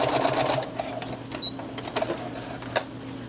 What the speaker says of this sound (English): I change my stitch length to a full baste, which is the longest stitch length that you have available.